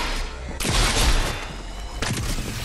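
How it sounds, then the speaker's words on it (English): Rockets fired in a video game: two sharp blasts, a loud whooshing burst at about half a second and a second hit near two seconds, over a steady hiss of game noise, with a player's voice faintly present. "Shoot the rockets at the wood."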